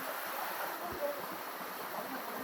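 A very small waterfall in Nepal, running low in the off season, gives a steady, faint wash of flowing water with no break.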